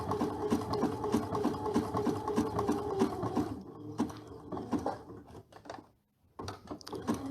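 Sewing machine stitching dimensional applique with black thread, a rapid steady mechanical patter for several seconds, then shorter stop-start bursts of stitching with brief pauses and a moment of silence.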